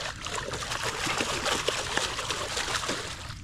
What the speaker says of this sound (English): Now it's a splashing.